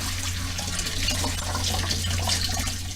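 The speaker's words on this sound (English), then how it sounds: "Run water at the same time so it doesn't burn your drain." Tap water runs into a kitchen sink while pasta is drained, a steady, broad rushing hiss that stays even and continuous throughout with a low hum beneath and no talking.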